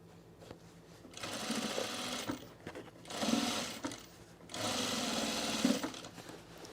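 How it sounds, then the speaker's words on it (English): Sewing machine stay stitching the top edge of cargo shorts, running in several steady bursts of close, even motor whir with brief pauses between runs. "So I'm just gonna stay stitch this top edge, get my pocket facing up here."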